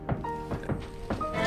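Several dull, heavy thuds of a bed frame being banged on bang out at an uneven pace over loud steady background music, like something solid being struck repeatedly.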